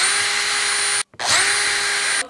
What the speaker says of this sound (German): Wir schrauben einfach ein paar Schrauben durch.